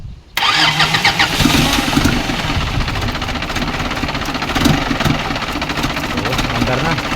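A 4BE1 diesel engine, just back from a top overhaul, cranks and fires up abruptly, then settles into a loud, steady clattering idle close to the microphone.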